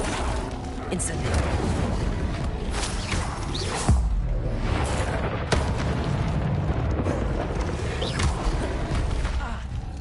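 The Incendio fire spell cast repeatedly in Hogwarts Legacy, whooshing bursts of flame and fiery booms over a busy game soundscape, mixed with spoken dialogue.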